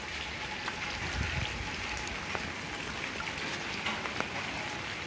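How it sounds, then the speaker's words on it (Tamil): Light rain patters steadily at a Hindu temple in Jaffna, an even, soft hiss with occasional individual drops standing out, with no voices. "மழை கொஞ்சம் மோஞ்சிட்டுது நல்லா."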